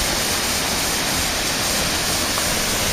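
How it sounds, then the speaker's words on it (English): Thornton Force waterfall on the Ingleton Waterfalls Trail, a steady loud broadband rush of falling water, close and unbroken, with no talking. "Welcome to Ingleton Waterfalls, Thornton Force."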